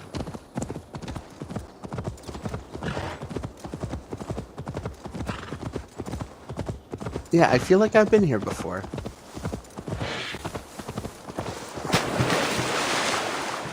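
Rhythmic horse hooves clip-clop steadily through a stretch of Assassin's Creed Valhalla gameplay on Stadia, paired with a whinny, waves and ambient game sound, while someone talks over the top.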